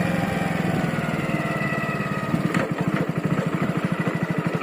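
A motorcycle engine runs steadily nearby while a rider takes the bike down a cut off a raised Bharat Mala road beside a temple, giving a continuous low chugging rumble with a rhythmic pulse and no talk.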